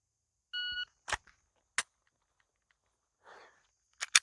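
A shot timer gives one short, clean electronic beep for dry fire pistol practice, followed by a few sharp dry clicks and snaps scattered over the next few seconds, quiet between them, with no voices.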